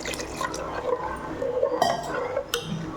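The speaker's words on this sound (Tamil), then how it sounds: "இப்போ கொஞ்சமாக தண்ணி ஊற்றிக்கலாம்" Water pours into okra curry cooking in a pan, a close, splashing liquid sound mixed with light clinks of the pan, without any talking.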